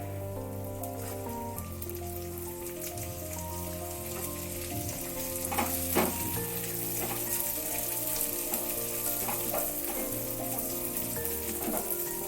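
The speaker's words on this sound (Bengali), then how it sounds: "সেই ডালটাকে আমি হালকা করে ভেজে নেব।" Soaked, drained mung dal fries lightly in oil with spices, dried red chillies and bay leaves, giving a soft, continuous sizzle and crackle under prominent background music.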